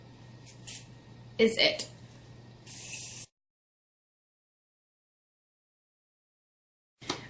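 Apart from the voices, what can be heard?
spraying Morphe Continuous Setting Spray on face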